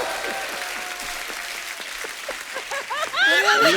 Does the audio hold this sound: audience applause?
yes